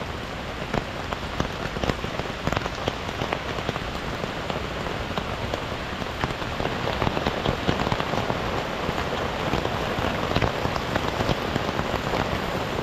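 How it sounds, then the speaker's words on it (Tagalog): Heavy rain drums continuously on a tent during solo camping, a dense close patter of drops with no pause and no talking. "Palakas pa din ang palakas yung ulan sa labas."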